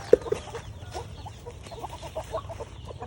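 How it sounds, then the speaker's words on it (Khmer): Chickens on a farm cluck at morning feeding time, a few sharp close calls at the start and then scattered softer clucks over a low, steady background. "សកម្មភាពព្រឹកឡើងគឺថាចាត់ចែងមាន់ ដាក់សុំឲ្យចំណីពេលព្រឹក"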